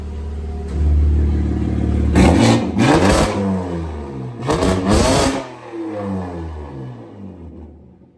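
A G80 BMW M3 engine idles, then revs hard twice in quick bursts, roaring up and dropping back before settling and fading out.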